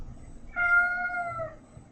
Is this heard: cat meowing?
yes